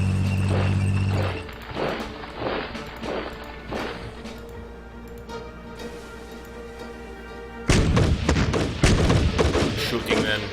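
Shots and battle effects ring out from the strategy game Decisive Campaigns: Barbarossa. Scattered ticking impacts and dull thuds give way to a louder, busier burst of gunfire toward the end, over a low background hum.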